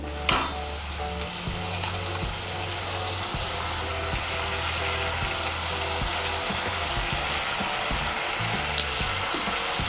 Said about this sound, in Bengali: নুনটাকে মিশিয়ে নিয়ে এখন মশলাটাকে আবার ভালো করে কষিয়ে নেব, যতক্ষণ না পর্যন্ত মশলার থেকে তেল ছেড়ে দিচ্ছে।